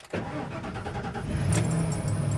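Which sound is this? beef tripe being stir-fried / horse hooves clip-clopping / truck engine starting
truck engine starting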